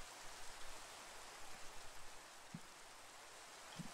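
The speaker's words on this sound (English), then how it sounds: "Rain should stop." Steady hiss of rainfall in a video game, soft and continuous, with a couple of faint low thumps in the background.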